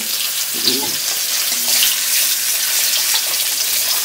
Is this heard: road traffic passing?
no